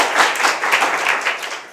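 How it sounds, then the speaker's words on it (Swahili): Students at a school applauding, a short burst of dense, fairly loud clapping that swells and then tapers off toward the end. "Amjipigi makofi."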